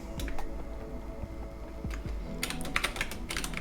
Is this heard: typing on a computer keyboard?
yes